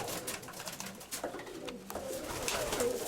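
Crimean pigeons coo softly amid a dense, rustling background of fluttering and bird noise, with low throaty calls repeating.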